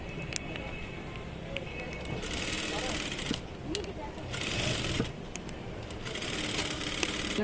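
Close, continuous whirring of a sewing machine stitching a blouse, with faint clicks and rattles, running under a voice talking throughout.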